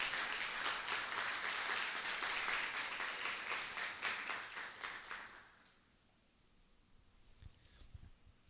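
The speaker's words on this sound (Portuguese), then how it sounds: "Você pode aplaudir e glorificar o nome do Senhor?" A church congregation applauds in praise, a dense, steady wash of many clapping hands that fades out after about five seconds, leaving near silence with a few faint scattered claps.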